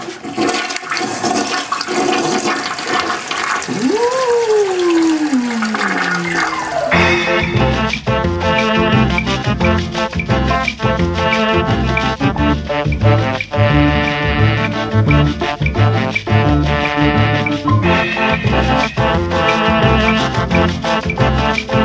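A toilet flushes loudly up close, an initial rising and sliding gurgle giving way to a long, steady rush of churning water that continues for the rest of the clip.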